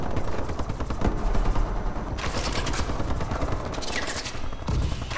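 Dense, continuous automatic gunfire and overlapping shots in the video game Call of Duty: Advanced Warfare, forming a busy, steady battle din with no clear gaps.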